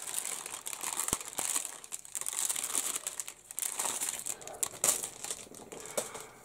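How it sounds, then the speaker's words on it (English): A rolled-up resealable plastic bag from a 1/48 scale CF-188A model kit crinkles up close, in quiet, irregular crackling bursts with a few sharper snaps and no talking. "Bag's rolled up, and it is a resealable bag."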